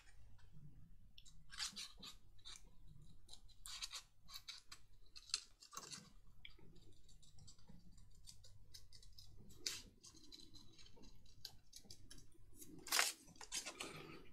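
Scissors snipping a paper butterfly cut from a 12x12 paper pad, a series of small crisp close-up cuts spread irregularly over several seconds, with rustling paper between them and one sharper snip near the end.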